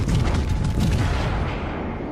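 Heavy battleship guns from the USS Arkansas fire a salvo from its four rear turrets in World of Warships: Legends, a loud, continuous low rumbling boom that sustains throughout and slowly fades.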